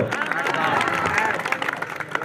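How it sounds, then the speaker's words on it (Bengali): A crowd at a cricket prize-giving breaks into loud applause for an honoree, a short, dense burst of clapping with voices murmuring underneath. "রাজুদার জন্য একটা জোরে হাততালি।"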